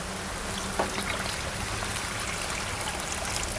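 Water pours steadily into a cooking pot over an outdoor clay stove, a continuous close rushing splash that stays even from start to finish.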